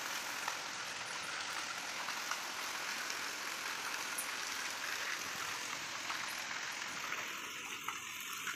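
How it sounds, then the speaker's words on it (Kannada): Rain falling outdoors as a steady, fairly faint hiss that holds even throughout, with a low rumble underneath and no voices. "ಮಳೆ ಬರ್ತಿದೆ."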